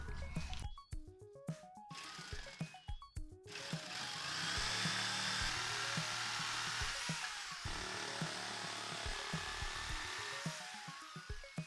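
Jigsaw cutting a control panel blank: a loud, steady buzzing saw drone starts after a few seconds and runs on with one short break.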